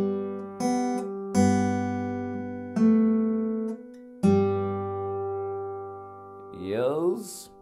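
A guitar plays the opening bar of the Danish song "Solen er så rød, mor" as a few clear plucked notes, each ringing out and decaying, followed by a brief bending, wobbling tone at the end.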